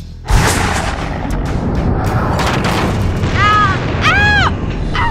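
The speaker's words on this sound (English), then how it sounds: "Burke's sonic cannon zeroes in on Norma." A sonic cannon fires in an audio drama, opening with a heavy boom that swells into a sustained roaring blast, with warbling electronic sweeps rising over the rumble near the end.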